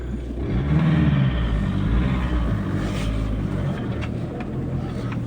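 A delivery van's engine rumbles loudly as the driver pulls away, a deep steady drone that swells early and then settles, with no talking.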